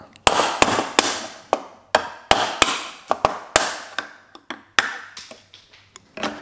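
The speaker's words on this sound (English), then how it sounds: "We simply use a screwdriver and a hammer and we just knock it out." A hammer strikes a screwdriver to knock out a blanking plug on an oval-port mechanical gland for fibre joints, about fifteen sharp metallic knocks at an uneven pace, each ringing briefly, close and loud with no talking.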